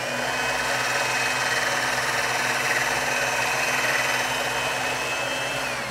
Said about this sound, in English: So I've got my pasta machine set on number 3 right now.